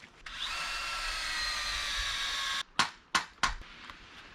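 A power drill whirs steadily for a couple of seconds boring into a maple tree, then stops, followed by three quick sharp knocks or clicks.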